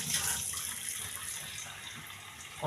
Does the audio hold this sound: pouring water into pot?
yes